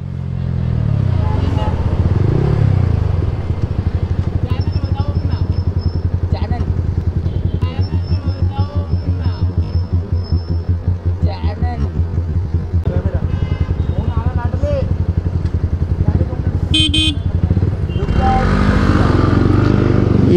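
Motorcycles riding on a road at night in Delhi, a close, continuous engine drone with revving surges and passing traffic, while someone talks over it throughout.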